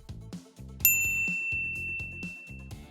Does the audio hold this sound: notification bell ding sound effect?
yes